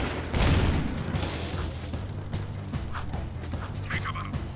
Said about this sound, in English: Hey, don't shoot me, that's rude. It's a motion sensing turret